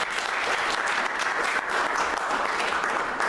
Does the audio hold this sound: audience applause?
yes